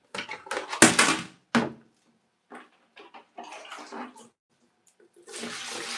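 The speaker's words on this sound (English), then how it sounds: "So we take out this water and we put in another one." Water splashes and pours in bursts as a basin used for rinsing conditioner out of a wig is emptied and refilled, with pauses between the louder gushes.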